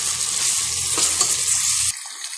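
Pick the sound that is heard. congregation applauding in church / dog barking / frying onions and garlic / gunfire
frying onions and garlic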